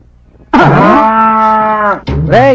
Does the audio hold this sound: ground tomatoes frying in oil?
no